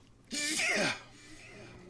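A single loud sneeze erupts close up, a sharp burst that trails off, followed by quiet room tone.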